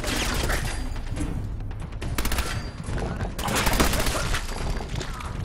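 Dense bursts of gunfire in the Fallout 4 video game, rapid overlapping shots and impacts filling the whole stretch at close range, loud and relentless.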